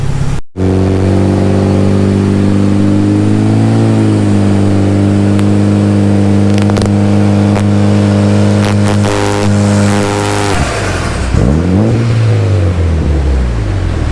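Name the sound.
Mitsubishi Evo 9 MR engine revving while tuned on E85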